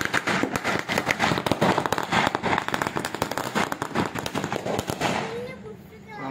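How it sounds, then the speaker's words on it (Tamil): A rapid string of firecrackers bursts nearby in dense crackling pops that fade out near the end, with a voice speaking over the bangs. "அதுக்காக இந்த பட்டாசு வெடித்தேன்"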